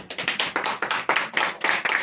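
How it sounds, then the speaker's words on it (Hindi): An audience claps for a child in a church gathering, with brisk, close, fairly loud applause made of quick, uneven handclaps that carry on without pause for a couple of seconds. "ताली बजाओ बच्चे के लिए।"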